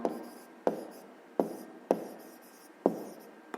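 Pen strokes on paper while working a fifth-grade maths exercise, five sharp scratchy onsets roughly every half to one second, each trailing off into softer writing, close and clear with no talk.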